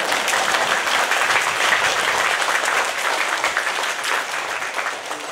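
A hall audience at a temple question-and-answer dharma talk bursts into sustained, dense applause, many hands clapping at once and staying loud before easing slightly toward the end.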